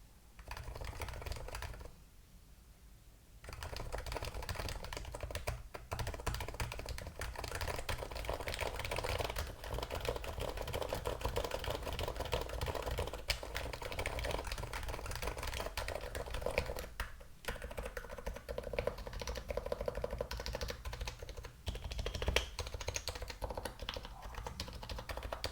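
A mechanical keyboard fitted with new URSA keycaps is typed on in a steady, dense patter of deep clacky keystrokes that runs almost unbroken, with one brief lull near the start.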